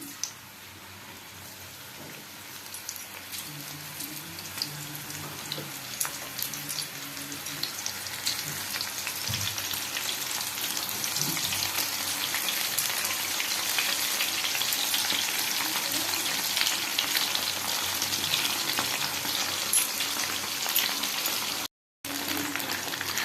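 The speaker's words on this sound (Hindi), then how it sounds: "छतु को देई छाणीबा" Mushrooms fry over high heat in hot oil in a kadai wok. A continuous rain-like sizzle builds and thickens, with occasional stirring knocks and a brief drop-out near the end.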